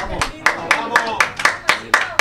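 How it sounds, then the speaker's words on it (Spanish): A padel match crowd breaks into steady rhythmic applause, about eight evenly spaced claps in unison from a modest audience, fairly loud and alone. "el público en un último intento de jalear a los murcianos arranca unos aplausos"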